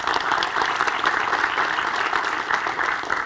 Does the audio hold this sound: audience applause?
yes